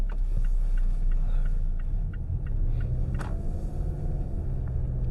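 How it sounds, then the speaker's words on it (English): Cabin sound of a 2024 Mazda CX-5 Akera turbo SUV on the move: a steady low road and engine rumble with tyre noise, a few faint clicks and one brief sharper knock, no talking. "how does the car drive, considering that it is a turbo version?"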